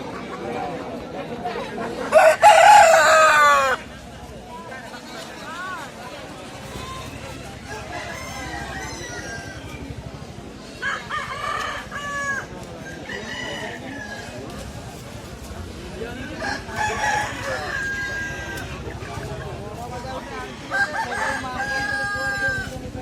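A loud rooster crow rings out near the start, then scattered crowing and clucking from many chickens continue under busy chatter and voices at a Sunday poultry market in Brahmanipal, Odisha.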